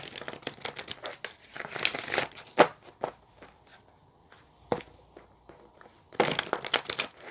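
A deck of tarot cards being shuffled hard, crisp riffling and slapping bursts in uneven clusters, close and fairly loud with short pauses between rounds.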